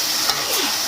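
Tempoyak, fermented durian, frying and being stirred in a pan, giving a steady close hissing sizzle with no talk.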